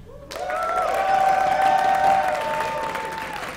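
A large esports crowd at the Lone Star Clash 2 League of Legends match bursts into cheering and applause, loud and sustained, with whoops and high shouts rising above steady clapping.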